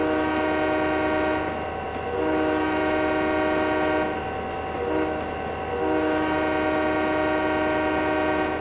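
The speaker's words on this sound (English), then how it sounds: "A little bit late on the horn there." A diesel locomotive's air horn in the railway simulator Trainz 2010, on a freight train, sounding two long loud chord blasts over a steady engine rumble, no talk.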